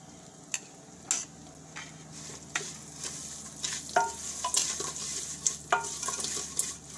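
Dry cracked wheat rustles and scrapes as a spoon stirs it in ghee in a pan, with sharp periodic taps against the metal and a soft sizzle underneath.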